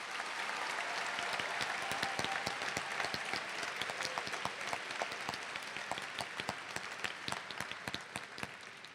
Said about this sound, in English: Please give these leaders a round of applause.